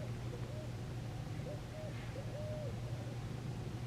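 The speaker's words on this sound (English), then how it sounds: "Could you hear the owl back there?" An owl hoots several times downstream beside a high, flowing Ochlocknee River, soft and distant over a constant low water rush and hum.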